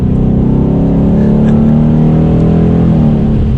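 A 2020 Ford Mustang GT engine revs hard and climbs in pitch, with a quick drop as its torque converter automatic shifts into second gear, loud and close throughout.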